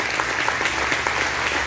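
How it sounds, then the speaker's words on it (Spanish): A church congregation claps together in worship, a loud, dense burst of applause filling the room for under two seconds. "Vamos a darle un aplauso."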